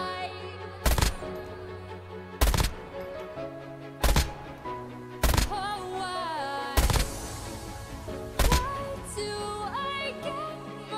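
Single gunshots from a MAC 10 or Fennec submachine gun fired at a target ten meters away in COD Mobile, sharp separate cracks spaced about one to two seconds apart over game music.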